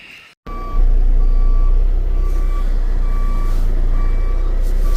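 A semi truck, a heavy fertilizer hauler, backs in with its reversing alarm beeping at a steady pace over a loud, close diesel engine drone.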